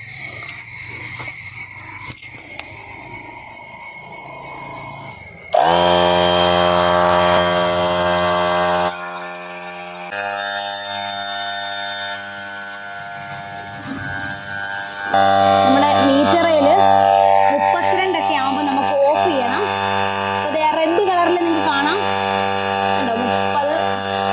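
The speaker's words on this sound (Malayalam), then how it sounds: "അപ്പോൾ നമുക്ക് ആദ്യം എയർ അടിച്ച് നോക്കാം" A portable air pump inflates a tyre after a puncture-kit repair: a loud, close, continuous mechanical drone with shifting pitch and a brief dip partway, running throughout, with someone speaking intermittently over it.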